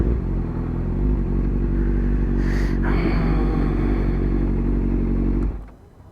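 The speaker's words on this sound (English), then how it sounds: "That's a Honda Fireblade." A Honda Fireblade sport motorcycle passes nearby with a steady, loud engine drone that holds for several seconds and then cuts away sharply.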